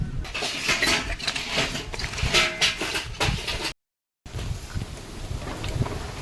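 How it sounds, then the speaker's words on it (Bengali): Wind gusts buffet the microphone outdoors at a Sundarban riverside cooking spot, a loud rushing roar that briefly cuts out before resuming. "আর তো হাওয়া হচ্ছে এখানে"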